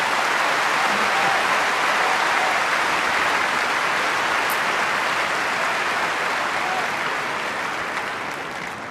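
Sustained applause from the crowd at a Wimbledon semi-final tennis match, a dense, even wash of clapping that holds steady and only slightly fades toward the end.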